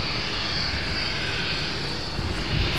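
A Boeing 747 takes off at Amsterdam Schiphol, its engines a loud, steady, broadband roar that holds throughout, heard from fairly close with no talking.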